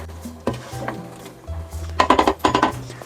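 A spoon scrapes and clanks against a metal pot while Shan pulao biryani is stirred, with a few separate knocks at first, then a quick run of rhythmic metallic scrapes close up.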